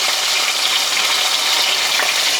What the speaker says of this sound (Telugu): మేము అమ్మాళ్ళు ఏంటంటే ముందు ముక్కలు ఇలా కొంచెం ఫ్రై చేసి చేసేవాళ్ళు అనమాట